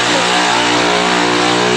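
Motorcycle engine kick-started and revved, a loud, continuous buzzing engine drone close by, held at high revs for the whole moment with no voices.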